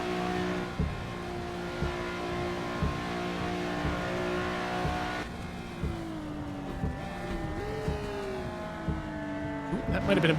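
A race car in the Assetto Corsa game droning at speed, then downshifting with rising revs and a few engine blips and pops, under a person talking throughout.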